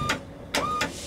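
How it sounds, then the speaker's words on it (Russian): Hydraulic pump on a Scania truck tilting the cab, heard up close as three short whirring, hissing surges over a steady low hum, with no voices. "И вот срабатывает насос."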